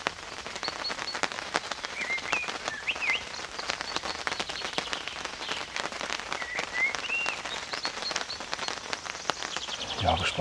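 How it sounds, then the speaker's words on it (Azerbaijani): Rain patters steadily on a tent at a rainy family campsite, a dense crackle of drops filling the scene while birds chirp faintly in the background. "Yağış başladı."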